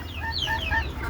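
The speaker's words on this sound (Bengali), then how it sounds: "এগুলো দেশি মুরগি" Desi chickens cluck softly over a low background rumble in a rooftop coop, with a short run of rising and falling clucks in a quick rhythm.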